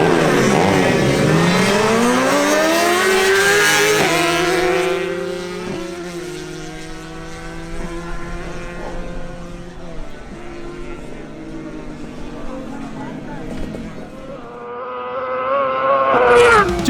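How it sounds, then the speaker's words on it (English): A Suzuki GSX-R1000 and a Yamaha RX 135 in a drag race, engines revving hard and climbing through rising gear-change sweeps, loud at the start, easing in the middle and swelling again at the end. "Wilson Penzo on his Suzuki GSX-R1000 makes a pass alongside Duvan Herrera's Yamaha RX 135."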